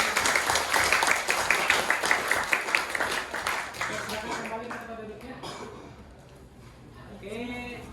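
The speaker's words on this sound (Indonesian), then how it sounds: "Ayo tepuk tangan lagi." A classroom audience claps along during a lesson, dense applause filling the first few seconds and then thinning out into scattered claps with voices talking over it.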